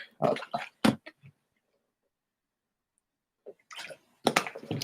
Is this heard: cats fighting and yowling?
no